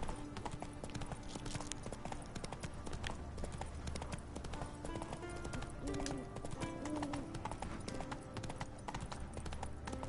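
Rapid, rhythmic hoofbeats of the horse Roach galloping in the video game The Witcher 3, a steady clip-clop pattern under game ambience with faint bird calls and a voice speaking at times.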